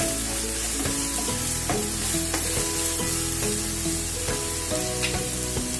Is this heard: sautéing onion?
yes